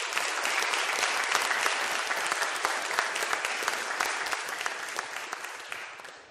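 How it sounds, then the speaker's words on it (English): Congregation applauding in a church service, a steady wash of clapping that gradually fades out over several seconds. "So let's give them a round of applause again"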